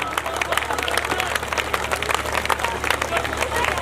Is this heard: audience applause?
yes